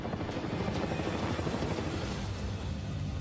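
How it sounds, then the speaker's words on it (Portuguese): A military Black Hawk helicopter flying, its rotor producing a loud, steady, broadband thumping roar that persists throughout without any speech. "Esse helicóptero é militar. É um Black Hawk."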